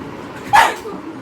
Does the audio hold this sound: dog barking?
yes